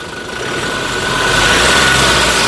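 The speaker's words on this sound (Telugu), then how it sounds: "ఇంజన్ యొక్క నాయిస్ కూడా చాలా సైలెంట్గా అయితే ఉందండి" A 2018 Toyota Innova Crysta 2.4 diesel engine idles steadily up close, a constant low rumble and hum that grows slightly louder, with no talking.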